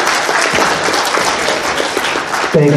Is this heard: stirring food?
no